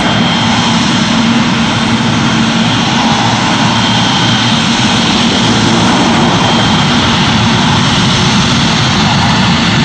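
A Cathay Pacific Boeing 747-412 roars on takeoff from runway 27 left at Heathrow, a loud, sustained, broadband jet engine thunder holding steady throughout, close and overwhelming.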